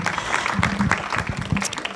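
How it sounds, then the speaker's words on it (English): Church congregation applauding at a service as leaders return to their seats; a dense, steady wash of clapping fills the whole stretch at moderate level, with some voices mixed in. "Can we have one more round of applause for all of our leaders as they return back to your seats?"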